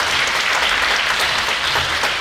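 Dense, steady applause from a conference audience at an interfaith gathering in a memorial hall, continuous hand clapping filling the room without speech.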